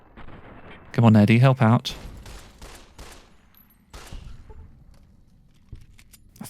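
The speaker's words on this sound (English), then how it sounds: "Use VATS to queue up a few shots." Gunfire in Fallout: New Vegas during a fight with rats near mines, a few broadband shots scattered through the clip with a louder burst early on, while someone talks over much of it.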